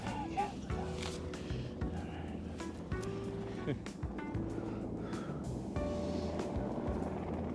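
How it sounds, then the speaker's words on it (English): A helicopter flies over the trail on the Everest Base Camp trek, its steady low engine and rotor drone holding throughout, loud and close beneath the voices and background noise of the trekkers. "Another helicopter."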